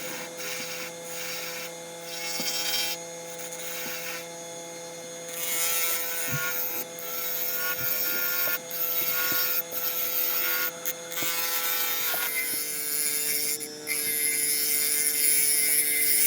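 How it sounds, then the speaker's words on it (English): A woodturning lathe runs at around 1200 RPM while a tool takes steady hollowing cuts inside a natural-edge birch bowl, producing a continuous hum with rough scraping and brief interruptions. "we can get straight back on with the hollowing. Just taking nice steady cuts."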